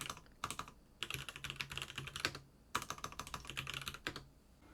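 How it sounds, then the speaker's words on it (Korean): Typing on an IF98 mechanical keyboard connected to an Android smartphone, soft close clacking in two bursts of rapid keystrokes separated by brief pauses. "키보드를 안드로이드 스마트폰에 직접 연결해 봤는데요, 당연하지만 타이핑도 잘 되고 조명 효과도 잘 들어옵니다"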